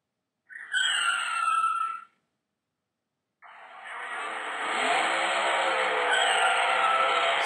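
Car sound effect for a stop-and-go animation, with a short screeching burst, a gap of silence, then a long sustained tire squeal and engine roar as the car takes off.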